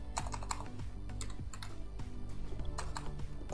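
Fast, steady typing on a computer keyboard while PHP code is written, a close and fairly loud stream of key clicks with no voices over it.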